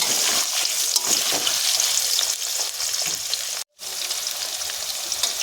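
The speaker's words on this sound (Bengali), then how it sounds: "এই তেলের ভিতরে আমি দিয়ে দেবো আলু। আলুটা দিয়ে ভালো করে নাড়াচাড়া করে নেব" Potatoes sizzle steadily in hot oil as they are stirred in the pan, a loud, dense frying hiss that runs almost continuously, with one brief dropout near the end.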